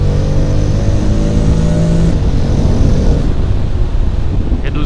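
A Honda X-ADV scooter's engine revs and drones loudly up close as it rides through slow São Paulo traffic, with a strong, steady rumble, wind buffeting, and the pitch climbing then easing as it accelerates.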